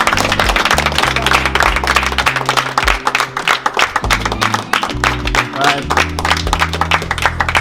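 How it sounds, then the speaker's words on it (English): A group of people gives two workers a round of applause at a project gathering; brisk clapping runs under loud background music with a steady bass line, and voices mix in. "we'll give Carl and Dennis a round of applause"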